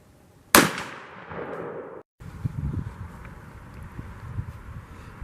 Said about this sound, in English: now I'm going to shoot Winchester Super X 5-shot and the Remington 3-inch 5-shot out of my 935